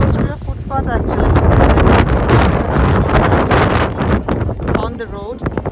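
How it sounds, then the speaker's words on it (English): Strong wind in a Canadian winter snowstorm buffets the microphone with loud, continuous roaring gusts. A voice is briefly heard near the start and end. "you can see that the wind is so high that it feels like that as if it is snowfall"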